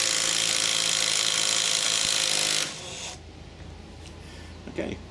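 A Milwaukee M12 3/8 right-angle impact wrench rattles loudly and continuously while loosening a tight wheel nut, then cuts off, leaving quieter handling noises afterward.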